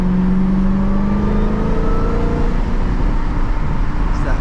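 Dodge Hellcat engine cruising under light load, a deep steady whine with a low drone and road noise, loud and close, with a tone that slowly drifts in pitch.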